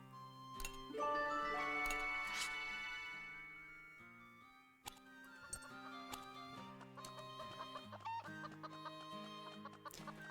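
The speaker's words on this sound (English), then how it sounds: "Little May, you could take care of the chickens for us" Cartoon chickens cluck in a cute furry farm video game, short repeated bursts over bright game music with chimes and tones, fairly loud and steady throughout.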